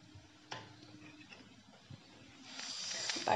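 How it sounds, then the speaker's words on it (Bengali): Laccha paratha fries in butter in a pan, giving a quiet, steady sizzling hiss with a few soft ticks that swells louder toward the end. "তাই আমি বাটার দিয়ে ভেজে নিচ্ছি।"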